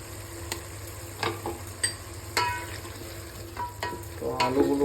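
Potatoes are stirred and fried in masala for chicken biryani, a soft sizzle running under a series of sharp spoon scrapes and knocks against the pan, growing busier toward the end.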